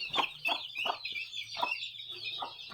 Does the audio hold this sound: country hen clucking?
yes